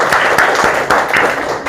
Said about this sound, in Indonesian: Untuk tepuk tangan untuk kelompok 2.